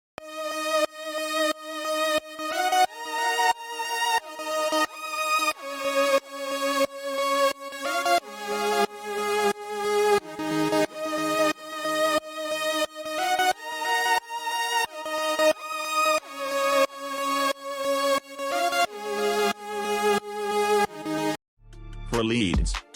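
Layered synth leads, built in FL Mobile, pulse in a steady, bright, repeating melodic pattern of short plucky notes, loud and alone, ending in a brief burst of different sound.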